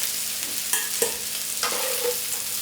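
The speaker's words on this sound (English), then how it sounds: "All we need to do now is give it a quick stir through and colour up a little bit on the sides." Cauliflower and potato for aloo gobi sizzle in a hot pan while being stirred, with a steady frying hiss and a few sharp scrapes and clicks from the stirring; no one speaks.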